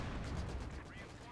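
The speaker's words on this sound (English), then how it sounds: "MG opening fire in the infantry section." A machine gun opens fire in a Company of Heroes 2 4v4 battle on the Vielsalm map. Rapid, faint rattling bursts blend into the thick din of the game's combat.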